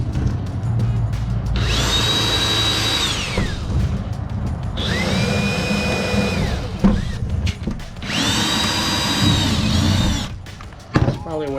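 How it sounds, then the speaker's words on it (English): A small power drill whines in three separate bursts, each a few seconds long, biting into wood paneling of a 1997 Coleman Sea Pine pop-up camper, with pauses between. "just drill a few holes."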